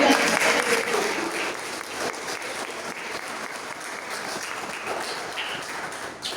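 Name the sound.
congregation applauding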